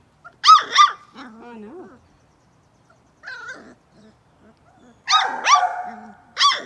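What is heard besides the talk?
puppy barking and whimpering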